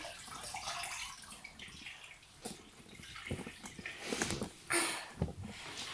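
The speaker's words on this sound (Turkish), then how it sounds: "Yine ıslatacağım. Yani yıkayacağım şöyle." A cleaning cloth is wetted and washed under running water, with faint splashing, dripping and wringing in irregular bursts, quiet and close with no speech.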